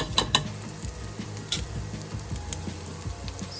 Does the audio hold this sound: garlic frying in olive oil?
yes